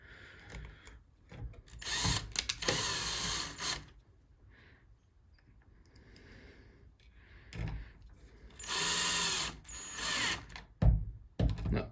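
Power drill driving screws into an ULTRALOQ U-Bolt Pro smart deadbolt, several short whirring bursts separated by quiet pauses, close and fairly soft.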